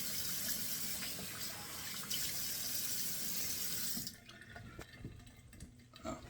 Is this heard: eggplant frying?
no